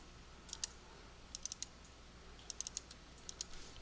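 Sharp clicks from a computer mouse come in small bursts of two or three, quiet and close, with soft silence between groups, while the LP360 software is in use.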